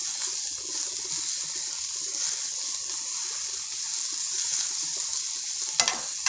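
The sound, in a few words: carrots being sautéed in a pan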